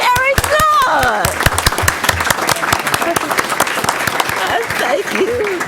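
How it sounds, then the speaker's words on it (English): Loud, steady applause from an audience at a county board of education meeting, honoring schoolchildren, with dense clapping throughout and voices calling out over it. "Let's give the boys and girls another round of applause."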